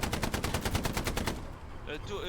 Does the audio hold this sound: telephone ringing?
no